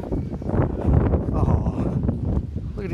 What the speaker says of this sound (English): I know it's windy.